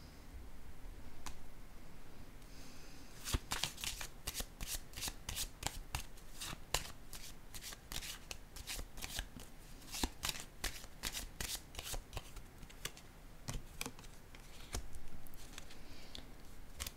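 Tarot cards being shuffled and dealt onto a surface, a close, dense run of crisp riffling snaps and clicks that pauses briefly before the cards are laid down.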